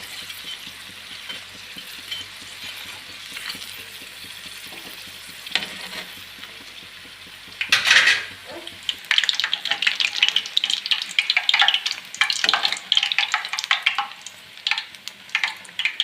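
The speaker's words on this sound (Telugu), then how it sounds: "చూడండి ఎంత బాగా వేగుతున్నాయో." Mirchi bajji chili fritters deep fry in hot oil to a golden colour, starting as a soft steady sizzle, then turning into louder crackling, bubbling and spattering with occasional utensil clinks and no talk.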